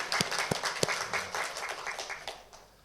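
A church congregation claps together during a Christmas worship service at Andong Holiness Church, producing a burst of sharp, fairly quiet hand claps that fade toward the end.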